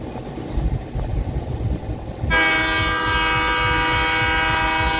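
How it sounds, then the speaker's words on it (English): A loud train horn blares as a stream sound alert, holding a steady multi-tone blast for several seconds after a stretch of road noise from a truck cab in Michigan. "Wolf Warrior 24 played train horn"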